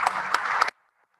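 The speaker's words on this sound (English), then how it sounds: "Please put your hands together for them," An audience at a ceremony claps for honoured guests, a short burst of applause that cuts off abruptly into silence.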